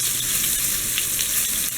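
Fish frying in hot oil, a loud, dense, continuous crackling sizzle close by with no pauses.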